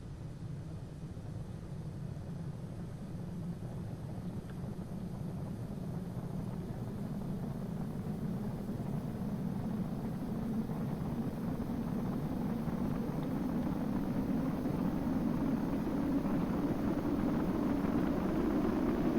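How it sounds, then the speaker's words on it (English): A nuclear ramjet spacecraft in a video game makes its orbital re-entry with a steady, rising roar of rushing air that grows louder and denser throughout, alone with no talk. "Now we're beginning re-entry, and yes, that is orbital re-entry."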